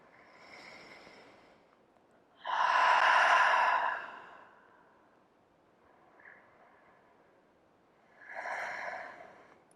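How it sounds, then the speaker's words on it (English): Deep breathing during a vinyasa yoga session: a soft inhale, then a loud, long exhale, followed by another strong breath a few seconds later, close and without talk. "2 big breaths"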